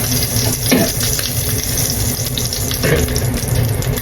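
Pork pieces frying in oil in a pan, a steady close crackling sizzle with occasional louder spits, continuous for a few seconds with no talk.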